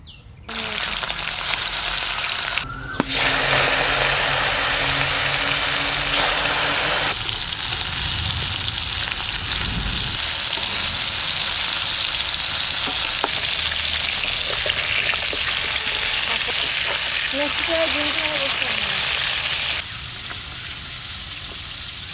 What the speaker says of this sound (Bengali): এবার মাছ ভাজার জন্য তেল দিচ্ছি সর্ষের তেল করলাম কড়াই গরম হয়ে গেছে